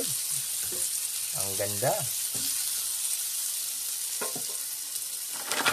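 Ginger fries and is stirred in a new cooking pan, a loud steady sizzle with occasional utensil scrapes, while someone talks briefly over it.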